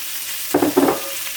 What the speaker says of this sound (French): On va pouvoir faire suer les légumes.